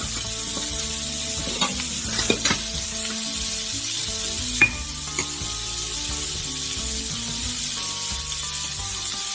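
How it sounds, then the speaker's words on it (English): Garlic-seasoned party appetizers sear in a pan on a home stove, giving a steady, close, loud sizzle with occasional sharper pops and stirring scrapes. "Definitely going to want to sear them"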